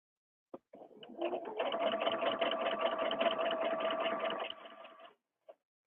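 Sewing machine stitching drape fabric, a steady rapid run of needle strokes lasting about four seconds before stopping, with a couple of faint clicks before and after.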